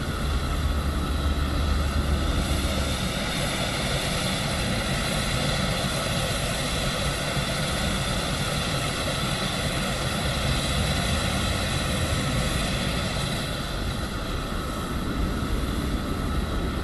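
Steady, loud engine drone from a PMDG 777-200 airliner in Microsoft Flight Simulator 2024, a continuous whine and rumble with no talk.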